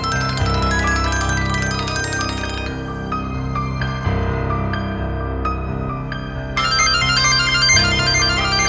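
A telephone plays a loud, continuous melodic ringtone, its tones repeating in a steady pattern with no one speaking over it.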